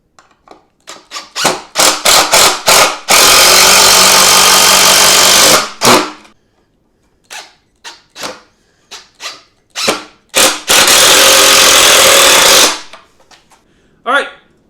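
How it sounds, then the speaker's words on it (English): A power drill drives screws into a wooden balance-bike stand: short bursts of motor whine, then two long sustained runs with spurts between, loud and close, with no talk. "So I'm going to try to screw them in here"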